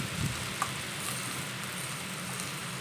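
Chili, onion and tomato sautéing in a pan for upma: a soft, steady sizzle with light crackle throughout, faint and close, with no talking over it.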